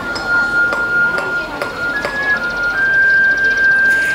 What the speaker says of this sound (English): their rubbish trucks have music like this.